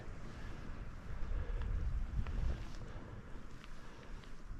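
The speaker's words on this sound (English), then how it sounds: "the river's gently cascading down" A river cascades down a hillside on Scotland's Cape Wrath Trail between Loch an Nid and Inverlael, a faint, steady rushing wash mixed with gusty wind noise on the microphone.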